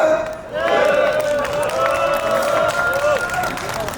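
An outdoor construction workers' rally crowd at Suwon Station applauds and cheers after a speech, a dense, continuous patter of clapping mixed with shouts and crowd babble, fairly close and steady throughout.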